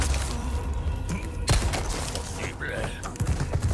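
Rapid gunfire in the Resident Evil 4 Remake video game, a dense burst of shots with thumps and cracks, heard beneath excited live-stream talk.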